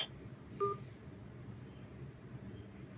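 A single short telephone keypad tone from pressing a number to approve an international money transfer on an automated phone line, one brief beep over a faint background hiss.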